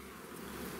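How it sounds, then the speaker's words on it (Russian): Drone bee squeaking inside a beehive, a steady close buzzing hum lasting under a second with no voices. "А, это трутень, что пищит."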